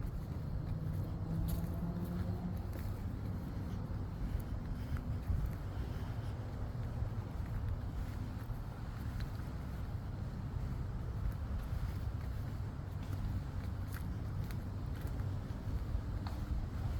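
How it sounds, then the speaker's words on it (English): Steady low rumble of water churning as a boat's wake washes along a lakeshore or riverbank, continuous and moderately quiet with no voices. "A boat went by, so there's lots of waves"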